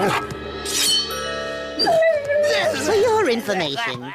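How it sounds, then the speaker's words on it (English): A cartoon dog howls and whimpers in a long wavering whine, heard up close with a voice speaking briefly at the start. "that is a dog. He may not be the prettiest dog."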